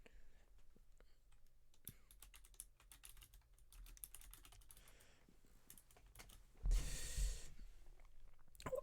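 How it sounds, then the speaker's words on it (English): Bursts of computer keyboard typing, quick clicky keystrokes in irregular runs with short pauses, close to the microphone and fairly quiet, with a louder rustle or breath near the end. "I'm just typing it here so I don't forget it."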